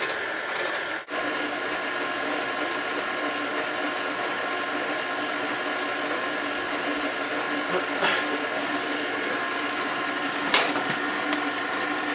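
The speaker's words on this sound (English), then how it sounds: "We're going to beat the butter, which means you mix it very fast." An electric hand mixer beats butter in a bowl for a Jewish coffee cake, a steady whirring motor drone that runs on throughout, with a couple of brief knocks against the bowl.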